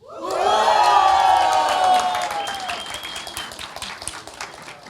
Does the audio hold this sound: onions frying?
no